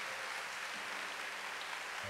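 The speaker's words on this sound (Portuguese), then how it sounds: "Dá uma salva de palmas para ela que está aqui hoje presente." Dense, continuous applause from a church congregation at a Thursday worship service, a steady wash of many hands clapping at once, fairly distant and even in level throughout, with no voices over it.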